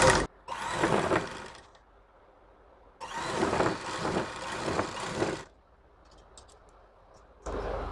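A sewing machine stitches the leg hems of a men's pajama in two close bursts of mechanical whirring and clicking, with quiet pauses between them and no talking.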